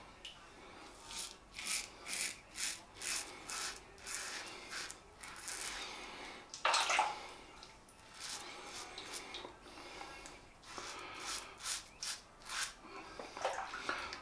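A Rex Envoy safety razor with a Gillette Super Stainless blade scrapes through a few days of beard growth, making close, rhythmic raspy strokes in quick repeated bursts with brief pauses between passes.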